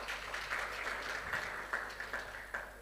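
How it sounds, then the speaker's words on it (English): A conference audience at an energy week event applauds its panelists with a short, soft, dense patter of many hands clapping, heard from a distance. "I would like to request for another round of applause to them."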